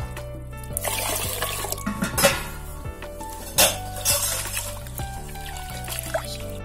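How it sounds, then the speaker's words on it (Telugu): Half a kilo of rice is washed in water in a metal vessel while making tomato vadiyalu, with close clinks and scrapes of the pot mixed with sloshing, pouring water and no speech. "1/2 కేజీ బియ్యం ని తీసుకొని శుభ్రంగా 2-3 సార్లు కడుక్కోవాలి"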